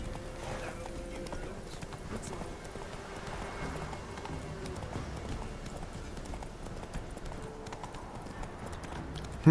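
Horse hooves clip-clop at a steady gallop in The Witcher 3, a continuous rhythmic pounding across a background of rustling and faint ambience, with no one speaking.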